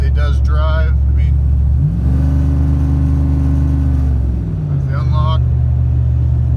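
A tuned pickup truck's engine rumbles steadily while driving, with a low drone that rises in pitch during a brief acceleration midway before settling, heard close from inside the cab with someone talking over it.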